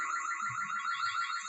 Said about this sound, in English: Sorry, that's my car alarm.